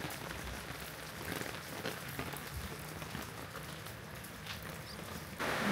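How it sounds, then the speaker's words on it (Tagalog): Heavy rain patters steadily on a surface at Viewscape Nature Park in Tanay, Rizal, a continuous hiss of drops that grows louder near the end. "Grabe ang ulan."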